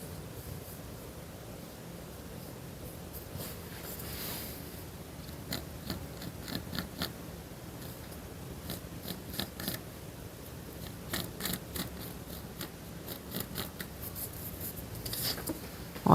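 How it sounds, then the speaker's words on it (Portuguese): A pen scratches lines onto fabric for a lace leotard pattern, a faint, steady scraping with repeated short strokes and no talking. "Porque essa caneta não apaga, né? Então, tenho que riscar com cuidado."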